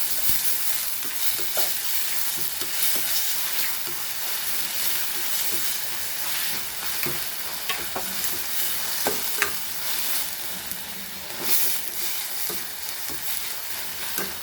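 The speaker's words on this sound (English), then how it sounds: "fry this so nicely till it becomes nice soft" Onions and tomatoes sizzle in a pan while being stirred for a Goan stuffed silver pomfret filling, a steady close frying hiss broken by repeated scraping and clicking stirs.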